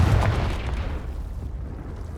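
Confringo blasting spell in Hogwarts Legacy, a sudden loud boom at the start that decays into a rumbling, noisy tail fading over about two seconds.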